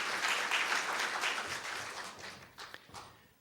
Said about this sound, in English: Please give a large applause to Mr.